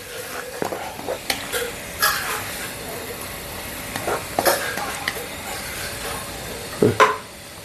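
Vegetables sautéing in a pan for Onam sambar give a low background sizzle, broken by occasional scraping stirs and clacks of a spoon, moderately close.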